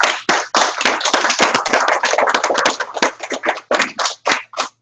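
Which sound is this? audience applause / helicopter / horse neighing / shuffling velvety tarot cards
audience applause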